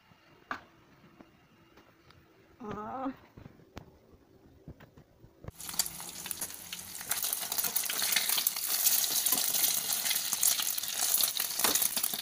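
Oil sizzles and crackles steadily in a pan as garlic and onion start frying, loud and close, after a few clinks and a brief quiet stretch.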